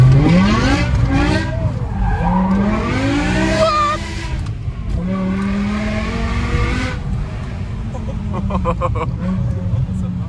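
BMW M5 with a V10 engine and straight-pipe exhaust drifting, a loud screaming engine rising and falling through revs with tire squeal, close and continuous, with people talking over it.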